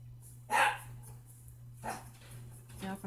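A playful dog barks indoors, one loud close bark followed by softer yips and whimpers, over a steady electrical hum with faint talking.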